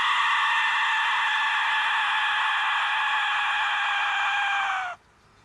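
An Aztec death whistle is blown in one long, loud, shrieking screech, harsh and scream-like, held for about five seconds before it drops and cuts off.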